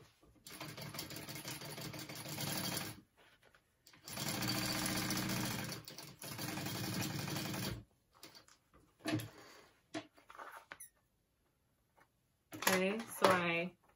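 A sewing machine stitches a convertible backpack in two long steady bursts, then a few shorter runs and handling clicks, close and clear, with a voice speaking briefly near the end.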